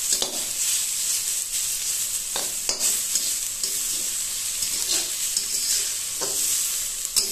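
Leafy greens (saag) frying in a pan as their water cooks off, a steady sizzle broken by sharp scrapes and clanks of a spatula stirring at intervals, close and without talk.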